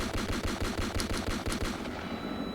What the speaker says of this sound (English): am I using the Halo 2 SMG over here?